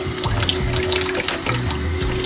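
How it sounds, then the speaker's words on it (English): Water splashes and trickles as it is sprinkled over konnyaku for home-cooked oden, a short wet patter set against a steady low hum. "Just sprinkle a little bit water."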